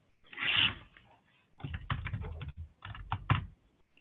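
Typing on a computer keyboard with German layout, close and fairly quiet, in a few short bursts of rapid key clicks separated by brief pauses.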